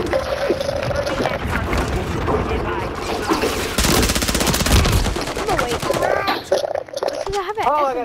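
Submachine-gun fire in Call of Duty: rapid automatic bursts rattle loudly and close, broken by short gaps, with heavier blasts and a voice talking through the action.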